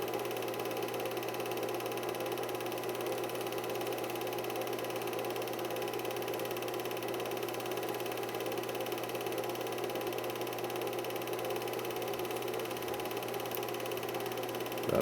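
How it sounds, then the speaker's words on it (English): A steady, low idle of a Honda CB900F motorcycle engine hums on without a break, even and unchanging in tone, with no voices over it. "That was my daddy's motorcycle."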